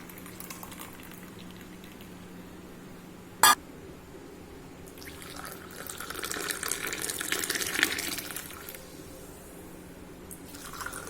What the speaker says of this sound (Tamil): நான் இப்போ இதை வடிகட்ட போகிறேன்.